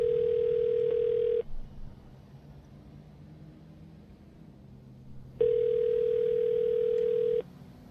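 A telephone ringback tone sounds twice as steady, long electronic purrs. A long quiet gap falls between the two rings during an outgoing call.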